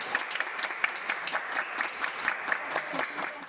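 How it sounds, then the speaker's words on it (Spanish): Crowd applause and cheering as a 104-year-old woman leaves a hospital after recovering from the virus, a lively patter of many hands clapping at steady strength, fairly close. "Entre ovaciones y aplausos, Carmen Hernández, una colombiana de 104 año"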